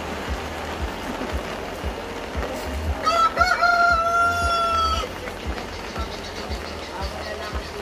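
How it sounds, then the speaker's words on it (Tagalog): A rooster on a farm crows once for about two seconds, loud and clear, over steady background noise while people chat nearby. "Ang ganda ng tandang."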